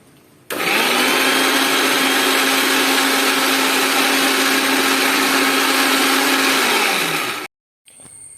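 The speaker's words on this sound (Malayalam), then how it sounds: "സ്റ്റൗവിൽ നിന്ന് എടുത്തിട്ട് മിക്സിയിലിട്ട് അരയ്ക്കേണ്ട ആവശ്യമുണ്ട്" A mixer grinder blitzes roasted coconut for a bone-and-tapioca dish, a loud, steady, close whir running about seven seconds before cutting off abruptly, followed by a brief quiet tail.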